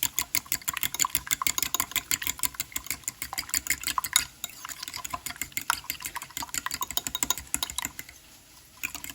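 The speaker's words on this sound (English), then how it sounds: "I have a fork here that I'm going to use to beat my eggs" A fork beats eggs in a bowl for an egg and potato skillet, making rapid, steady close clicking taps that run continuously and ease off near the end, with no talk.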